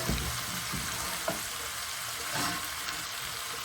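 Stuffed chicken breasts browning in a pan before going into the oven, a quiet, even hiss of frying fat throughout with a couple of faint soft bumps.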